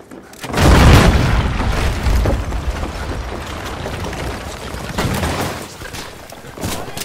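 Explosive charges detonate in Battlefield V with a heavy, close boom that rolls into a long, dense rumble of debris and distant gunfire.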